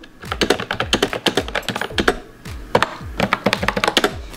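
Typing on a cheap Bluetooth keyboard paired with an iPad: rapid, uneven bursts of close, crisp plastic key clicks and thunks with brief pauses between runs, no voices.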